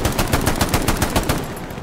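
In Hell Let Loose, a machine gun lays down suppressing fire as one sustained, close burst of about a dozen rapid, evenly spaced shots that stop abruptly.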